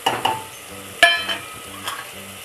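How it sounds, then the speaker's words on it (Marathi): Masala spice mix stirred and frying in a pan for mung dal amti, with a few sharp utensil clinks against the pan over a soft low sizzle, close and alone. "आता हा मसाला चांगला आपण परतून घेऊया।"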